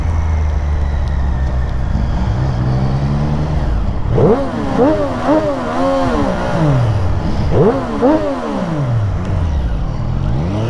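A 2024 Triumph Street Triple 765 RS motorcycle revs repeatedly, its engine note climbing and falling in several sharp sweeps, loud and close.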